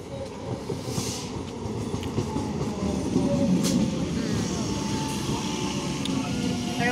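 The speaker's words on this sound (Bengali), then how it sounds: "আমাদের ট্রেন ঢুকছে," A train pulls into a station with a steady, loud rumble and faint rail clatter throughout, and faint voices can be heard in the background.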